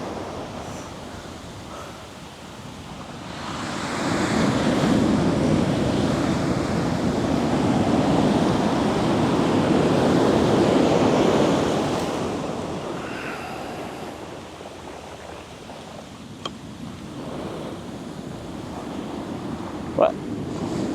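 Strong ocean surf rolls onto a beach in a broad, rising and falling roar that swells to a loud crash midway, with wind buffeting the microphone throughout.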